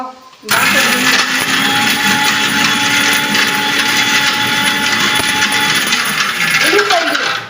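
A mixer grinder whirs loudly and steadily from start to finish, with talk faintly underneath.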